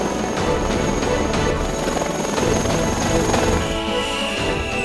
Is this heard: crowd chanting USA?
no